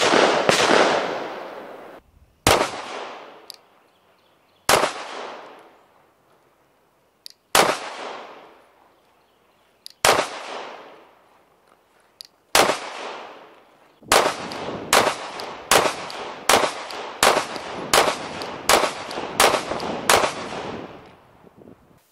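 Glock 49 pistol shots on a range, loud sharp single reports spaced a couple of seconds apart, then a quicker string of about ten shots fired in rapid succession near the end.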